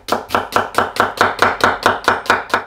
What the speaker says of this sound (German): die Zwiebeln schneide ich grob klein